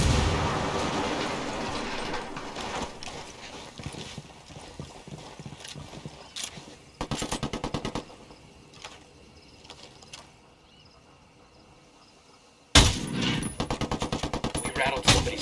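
Automatic gunfire crackles in bursts during a firefight in the tactical shooter Ghost Recon Wildlands, rapid rattling volleys starting and stopping, with quieter gaps and a final loud close burst.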